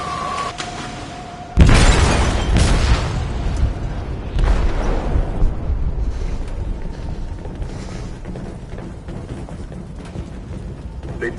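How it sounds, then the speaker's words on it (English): A large explosive detonates inside a ship's hold in a video game: a sudden loud blast with shattering debris, followed by a long rumbling roar and secondary crashes that slowly fade. "They detonated an explosive in the hold."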